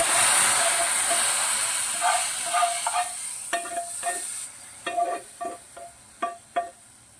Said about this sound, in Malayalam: ഈ കറിയിലേക്ക് നമ്മൾ കടുക് വറുത്തത് ചേർക്കാവേ.